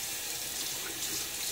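Tap water runs into a sink while a razor is rinsed during a wet shave, a steady close hiss of flowing water for just over a second.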